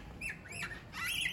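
Someone outdoors in the snow imitates a pigeon with a few short, squawky, rising coos in quick succession, fairly quiet against a light background hiss.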